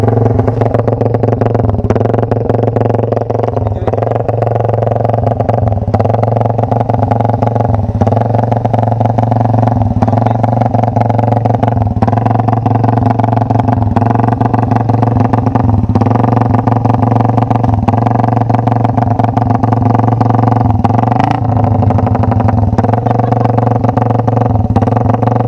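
A semi truck engine idles to warm up, with a loud, steady low rumble and a regular rhythmic clatter that runs unbroken for the whole stretch.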